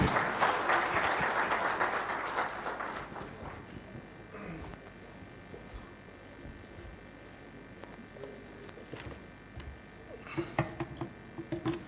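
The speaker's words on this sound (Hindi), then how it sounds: "आप सबकी भरपूर तालियां" A burst of clapping from a summit audience, strongest at the start and fading to scattered claps, followed by a few faint knocks and thumps.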